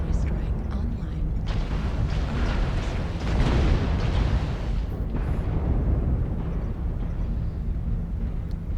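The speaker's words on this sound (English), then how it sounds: "Artillery strike online." Artillery strike explosions in the mech combat game MechWarrior Online, a dense sustained rumble of booms that swells mid-clip and continues steadily.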